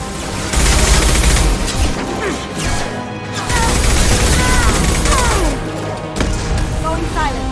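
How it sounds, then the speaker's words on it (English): Heavy gunfire and crashing impacts in a Mass Effect 2 firefight, dense continuous volleys with a brief lull, loud and close, with voices talking over the combat. "Taking heavy fire."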